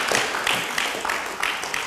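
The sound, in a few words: audience applause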